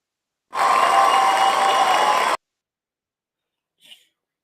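A crowd at an NBA game between the Minnesota Timberwolves and Utah Jazz bursts into loud applause and cheering for about two seconds, then goes quiet apart from one faint brief sound.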